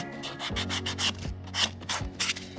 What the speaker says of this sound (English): So what I do is I come in with a buffer and I just buff out that shine